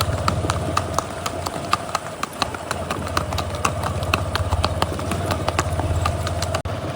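Horses' hooves clip-clopping on a rough road during a night ride at 4 a.m., a steady rapid rhythm of close hoofbeats over a low continuous hum.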